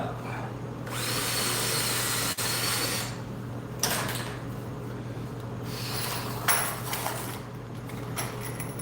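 A power drill bores out bench press safety blocks, its whine running loud and steady at close range with several short pauses and restarts as the bit bites.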